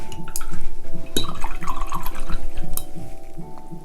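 Watercolor brush being rinsed in clean water while painting, a continuous close sloshing and trickling of liquid with a few sharper clinks of the brush against the container, steady throughout with no talk.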